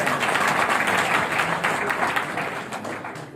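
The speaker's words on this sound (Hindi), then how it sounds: "एक बार जोरदार तालियां इनके लिए हो जाए" Audience applause at a seminar, a loud burst of many hands clapping in a dense, continuous patter that gradually fades slightly toward the end.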